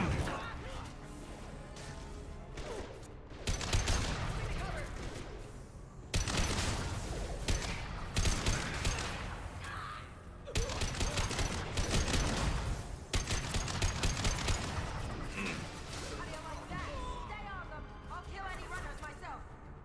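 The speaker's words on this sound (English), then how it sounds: "Firing a high-impact shot." Dense bursts of gunfire and crashing impacts in Mass Effect Legendary Edition 2 on insanity difficulty, loud and close, coming in waves with short gaps, while in-game voices call out over the combat.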